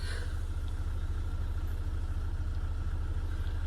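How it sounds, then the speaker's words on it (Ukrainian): A car engine idles nearby, a steady, even low rumble that holds unchanged throughout, with no speech over it. "О, зараз заїде машина, Вова."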